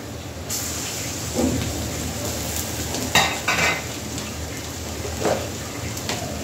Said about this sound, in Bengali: এবার দিয়ে দেবো রসুন বাটা